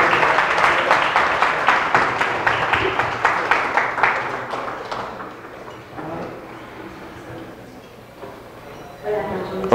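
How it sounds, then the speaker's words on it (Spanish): Lecture audience applauding a graph theory talk, the clapping dense and fairly close for about five seconds, then thinning out into murmuring voices and quiet room noise. "le den un gran aplauso a Poncho por explicarnos esto"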